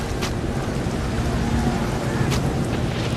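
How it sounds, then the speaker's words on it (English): Heavy rain pours down in a flash storm on a rocky Mediterranean island, a loud dense continuous roar with low rumbles of thunder rolling underneath. "Frequent flash storms begin to pound the rocky island"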